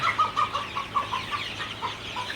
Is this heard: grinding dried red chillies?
no